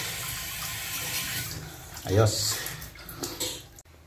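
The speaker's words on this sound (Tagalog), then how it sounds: "Yan na ang tubig, ang lakas na." A repaired faucet runs strongly, water gushing steadily with a surge in the middle, close and fairly loud, while a person talks over it.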